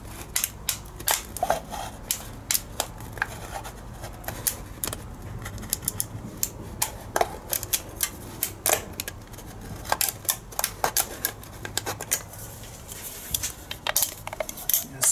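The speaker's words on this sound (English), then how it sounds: "Push it in and then slowly spin it, and it will make a perfect cut around the bottle." Blade cutting around an aluminum coke can while it is slowly spun for a homemade alcohol stove, close irregular metallic clicks, ticks and scrapes scattered densely throughout over a low rumble.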